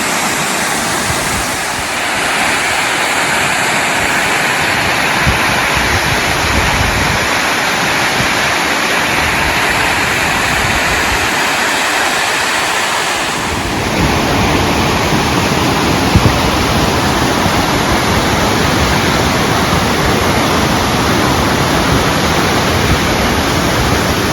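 Kings Creek Falls in Lassen Volcanic National Park pours with a loud, continuous broadband roar that swells a little louder partway through, constant and close, with no voices.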